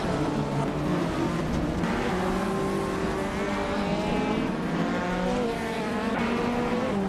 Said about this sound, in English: Adanut 44 is driving a 1993 Lancia Delta HF Integral